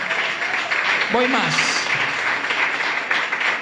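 Applause from a church congregation fills the space throughout, a steady broad wash of clapping with a brief spoken voice cutting in near the middle.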